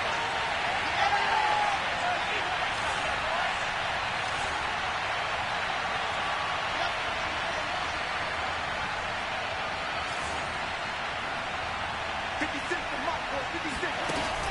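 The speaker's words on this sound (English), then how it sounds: "The crowd getting into it as we come up on a big 3rd down." Stadium crowd in Madden 22 football game building before a big third down, a broad continuous roar of cheering at moderate level, steady throughout with slight swells.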